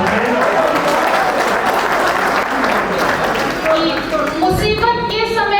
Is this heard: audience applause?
yes